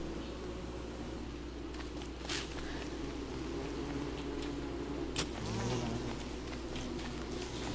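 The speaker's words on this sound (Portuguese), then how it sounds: "Cadê a última abelha? Eu preciso de mais uma abelha." A bee in the video game Don't Starve buzzes faintly and continuously against a quiet, soft ambient background, with a few brief light clicks along the way.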